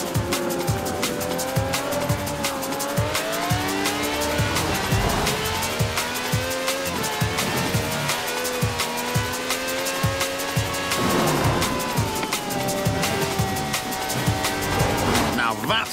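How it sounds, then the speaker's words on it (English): A V12 car engine of over 750 horsepower in Forza Horizon 4, roaring steadily with rising and falling pitch sweeps while worn tyres squeal and skid continuously, loud and close throughout. "No clattery diesel engine here. This is a V12 with over 750 horsepower"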